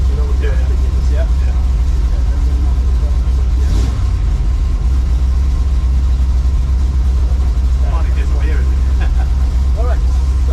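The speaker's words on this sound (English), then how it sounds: "the engine came to life, loud, raw and ready" A NASCAR stock car engine runs with a loud, constant low rumble close by. People talk over it throughout.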